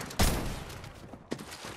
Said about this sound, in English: what is Nathan doing with that shotgun that he got?